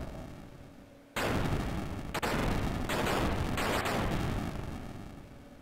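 Video game explosion in Seiken Densetsu III: after a quiet lead-in, a loud blast erupts and several booming bursts follow in quick succession, rumbling on and slowly fading.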